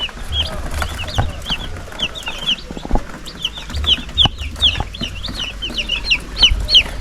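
Several chickens clucking and squawking repeatedly at close range, short sharp calls scattered across the scene with some background rustle and thumps.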